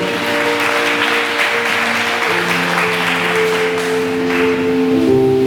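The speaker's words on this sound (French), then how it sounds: "On acclame très fort Dieu" A church congregation claps and cheers in praise during a worship service, a steady wash of applause layered over sustained musical tones, loud and continuous.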